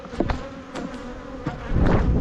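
Honey bees buzzing at an open nuc hive in a bee yard during a brood check, a close, loud, dense insect hum with individual bees whizzing past the microphone.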